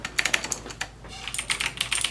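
Rapid typing on an AUKEY mechanical gaming keyboard with RGB backlight, crisp clacky keystrokes in quick irregular bursts, close and clear with a brief lull midway.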